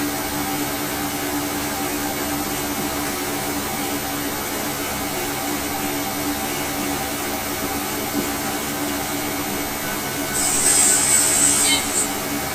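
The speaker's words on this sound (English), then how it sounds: "Sorry about the background noise. We've got quite a few fans going." A steady, loud whirring drone of several electric fans running together during an indoor cycling session, continuous and unchanging, with a brief higher whine near the end.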